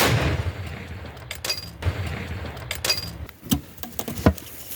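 An M119 howitzer fires near Bakhmut, with several sharp booms and cracks spaced a second or so apart over outdoor noise.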